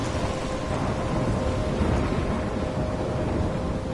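Thunderstorm in the video game Life is Strange, with steady heavy rain and a constant low rumble of thunder rolling underneath, loud and continuous with no voices.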